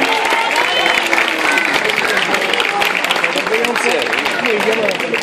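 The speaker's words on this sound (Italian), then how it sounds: "io accoglierei i ragazzi dello staff con un grande applauso" A crowd in an outdoor town square applauds to welcome the event staff, steady clapping over a continuous wash of crowd noise and voices, with people talking throughout.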